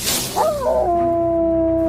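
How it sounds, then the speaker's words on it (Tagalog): A dog-like howl serves as the sound effect for an aswang creature: one long, rising then sustained tonal wail that holds steady and close after a short noisy onset. "Walang ano-ano, bigla na lamang itong umalulong na parang aso."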